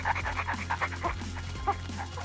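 A tamed dog in the Minecraft video game pants in quick rhythmic breaths, up close and moderately loud, with a few short whimpering yips mixed in over a steady low background hum.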